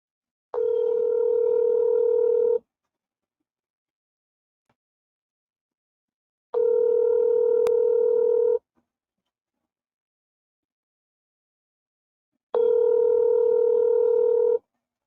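Three steady telephone tones, about two seconds each and spaced by silence, sound loud and clear while a call to a Texas number goes through, with no talking over them.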